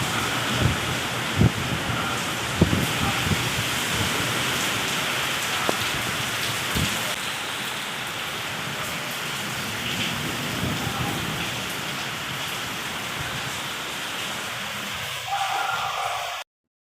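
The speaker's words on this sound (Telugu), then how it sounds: "విన్నారు కదండి ఎంత పెద్ద వర్షము సడన్గా వచ్చేసిందనమాట" Sudden heavy rain pours outside at night, a dense, loud, steady hiss of drops on surfaces with a few louder knocks, cutting off abruptly at the end.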